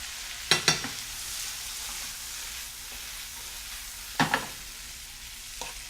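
Tomatoes being stirred into a hot frying pan for a fagioli salad, with a steady sizzle underneath and a few sharp scraping clatters of the utensil against the pan.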